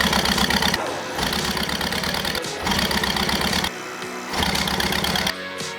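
Toyota Prius engine with about 200k miles turning over on the starter during a compression test, in repeated cranking bursts separated by short pauses, loud and close with no talking.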